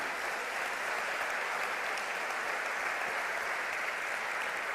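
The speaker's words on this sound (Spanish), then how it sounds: "Damos un aplauso a esta palabra." A church congregation applauds during a sermon, a sustained, even roar of many hands clapping that stays steady from start to finish at moderate distance.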